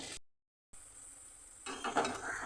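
Fried potatoes, drumsticks and raw ridge gourd added to cooked spice masala in a pan: a quiet hiss after a brief silence, then a louder sizzle and stirring clatter.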